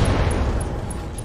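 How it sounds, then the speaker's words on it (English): A Ghost Rifle mech exploding in the Battletech video game, a dense, steady low boom and rumble that fills the whole short moment, loud and close with a faint high tone pulsing above it. "Nice, Ghost Rifle explosion."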